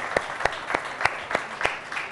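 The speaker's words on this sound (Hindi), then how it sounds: "ऑडियंस से भी रिक्वेस्ट करूँगी कि खड़े होकर उनके लिए तालियां बजाते हैं।" A standing studio audience at a Ramadan iftar broadcast claps in a steady, rhythmic beat, each sharp clap evenly spaced and close over a faint background murmur.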